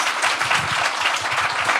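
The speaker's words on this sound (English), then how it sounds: "So please give them a round of applause for making this such a smooth process." A live podcast show audience gives a dense, steady round of applause, many hands clapping together at an even level throughout with no talk.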